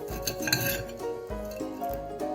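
Cutlery clinks and scrapes against a plate while cutting through Thai sausage stuffed with rice, several short metallic knocks close up over a low background hum, with no talking.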